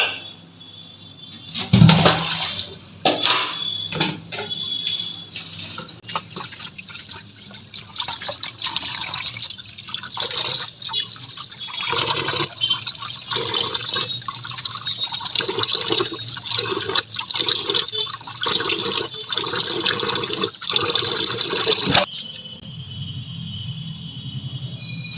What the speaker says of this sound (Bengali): প্রথমে বোয়াল মাছটাকে ভালো করে ধুয়ে নিতে হবে।